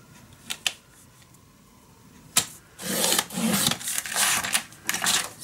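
A tool is drawn along paper to score a fold line for a handmade mini album, heard as a few sharp isolated ticks followed by a longer run of close, scratchy scraping strokes with no voices.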